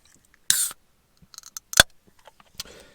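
A beverage container is cracked open with a sharp hiss-like burst followed by a few small clicks and rattles, close by in an otherwise quiet setting with no talking.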